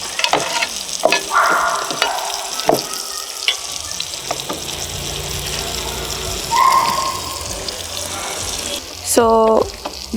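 Butter sizzles steadily in a pan as burger buns heat, with scattered clinks and scraping throughout and a brief tap-like burst of running water near the end.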